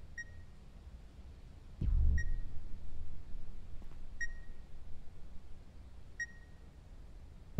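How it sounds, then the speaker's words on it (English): A device beeps inside The Beast Inside game: four short, high, evenly spaced electronic beeps about two seconds apart over a quiet low hum, with a dull thud partway through and no talk. "What's that beeping?"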